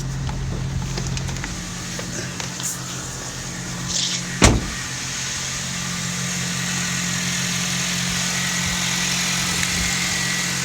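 A 2009 Honda Civic engine idles steadily after start-up, a low even hum with a brief sharp click partway through, then a smooth continuous drone until the end.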